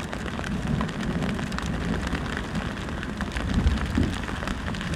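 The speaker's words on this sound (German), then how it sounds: "Es regnet schon ein bisschen." Steady rain falls outdoors during a bike tour, a dense, even hiss of drops with a low rumbling undertone, continuous and fairly close, with no voices.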